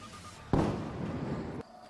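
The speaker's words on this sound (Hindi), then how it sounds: "देखिए, जंगल में फटाके फूटने की आवाज़ आ रही है" Firecrackers burst in a forest, set off to chase large animals away from a fair area: one sharp, loud blast followed by about a second of dense crackling, then a sudden cut back to quiet woodland ambience.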